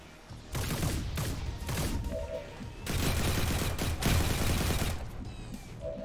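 Suppression fire in XCOM 2: War of the Chosen, modded, a loud, sustained burst of rapid automatic gunfire with a heavy rattle, close and continuous, with brief mechanical clicks.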